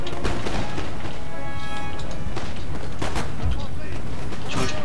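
An infantry unit in the strategy game Empire: Total War fires a volley: several loud, sharp gunfire bursts in quick succession, with a voice talking over them.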